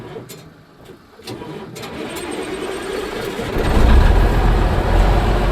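A 1978 Oshkosh truck engine being fired for the first time on ether cranks and catches, building into a loud, rough, close-up rumble that swells and holds steady toward the end.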